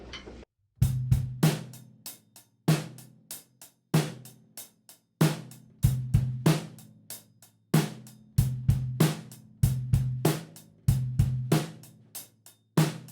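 A slow drum kit groove, with hi-hat, snare and kick played by a single drummer, sounds loud and close in a spaced, repeating pattern, starting after a brief pause.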